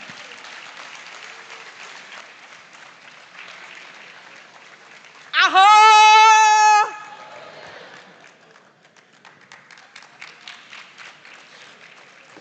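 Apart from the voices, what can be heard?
audience applause at awards ceremony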